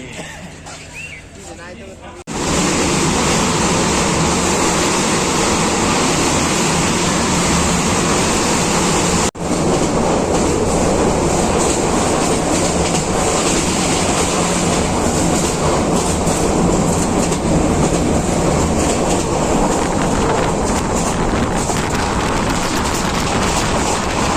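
Loud continuous rumble and roar of a train at close range at Chittagong railway station, a dense noisy wash with faint voices beneath it.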